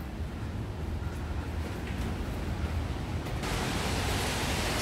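Rushing water roars steadily through a rocky mountain gorge near the Devil's Bridge in Switzerland, a dense, continuous wash of noise that swells slightly louder toward the end.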